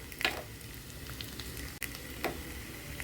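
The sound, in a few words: sautéing potatoes and plantains in pan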